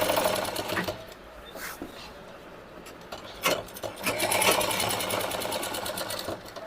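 A sewing machine stitches a zipper onto a pleated lehenga in short bursts of rapid mechanical whirring, pausing between runs and rising to a longer steady stretch near the end.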